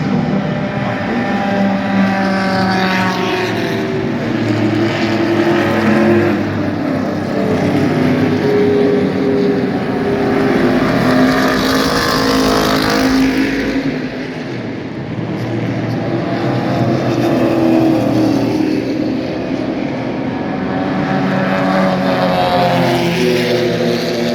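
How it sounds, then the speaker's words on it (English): A first-generation Ford Mustang race car drives in a vintage racing event, its loud engine droning and rising and falling in pitch as it passes, with a brief dip in the noise midway. "It's the first generation Mustang."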